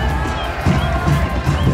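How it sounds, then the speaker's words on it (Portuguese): Cerro Porteño supporters cheer and chant in a football stadium in Encarnación, Paraguay, a steady roar of crowd voices with small swells, close and continuous. "Olha aí, a torcida é bem animada aí."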